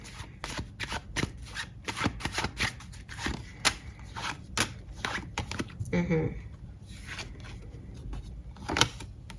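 Tarot guidance cards being shuffled in rapid, close bursts of crisp riffling and slapping, with a brief pause and a softer rustle midway before the shuffling resumes.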